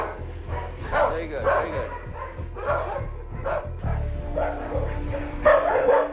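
A dog kept in a kennel for five years, resisting a leash, barks and yips in repeated short bursts at close range while someone speaks calmly over and between the barks.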